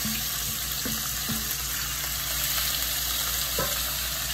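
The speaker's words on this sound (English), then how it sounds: "you want to hear the sizzle of it" Thinly cut pork for ginger stewed pork poured into a hot pan, sizzling steadily and loudly up close, with a few clanks and stirring scrapes breaking through the hiss.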